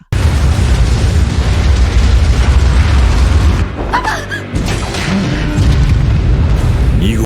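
A powerful explosion attack in the Kaiju No. 8 anime: a loud, sustained booming roar with rumbling debris, a brief dip midway with sharp crackles, then continued heavy blast noise until an abrupt cut.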